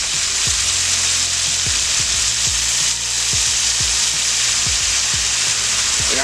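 Minced garlic fries in a pan for a pork loin dish, producing a loud, dense, continuous sizzle close by, punctuated by repeated scraping clicks of a utensil moving through the pan.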